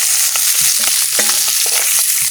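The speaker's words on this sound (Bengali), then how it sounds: "এবার খুন্তি লাগাচ্ছি।" Silver fish frying in a pan with jackfruit seeds and Malabar spinach, a loud steady sizzle of hot oil with the scrape and tap of a spatula stirring close up, no talking.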